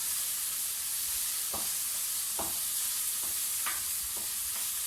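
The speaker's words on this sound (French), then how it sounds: "et faire revenir encore" Turkey cutlets and whole tomatoes fry in a pan with a steady, even sizzle, broken by a few soft stirring scrapes at irregular intervals.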